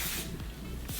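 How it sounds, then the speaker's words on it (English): A shea hair oil spray is misted onto the hair around the hairline: two or three quick, close hissing bursts. "I use this and I spray it like right on the perimeter of my hair"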